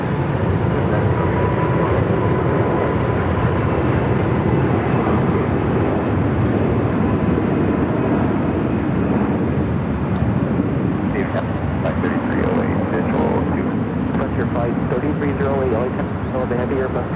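An airliner inbound from Rome approaches to land at LAX, a steady broad engine roar filling the whole stretch with continuous talk over it.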